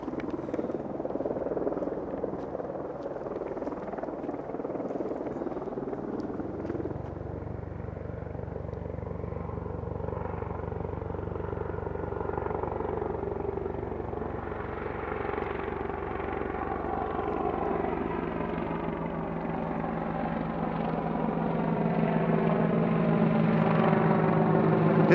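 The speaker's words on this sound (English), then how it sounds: "Here comes another helicopter." Helicopter approaching and passing overhead, a steady rotor drone whose pitch and loudness climb gradually over about twenty-five seconds, heard outdoors without talk.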